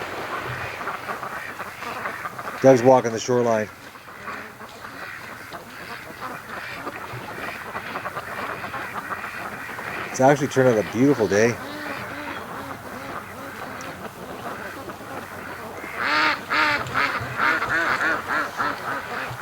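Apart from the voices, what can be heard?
ducks quacking along the shoreline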